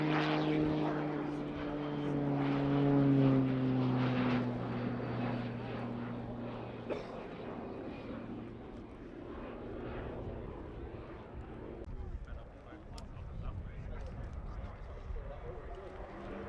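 A Slovenian Pilatus PC-9M Hudournik propeller aircraft performs aerobatic rolls with its landing gear extended at an air show, a steady engine drone at moderate distance that fades slightly, heard under continuous commentary.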